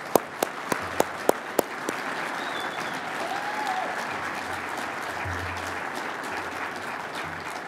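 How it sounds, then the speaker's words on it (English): An audience at a groundwater association awards ceremony applauds, with a few sharp nearby claps opening into a sustained wash of crowd clapping that holds steady for several seconds. "give you an applause"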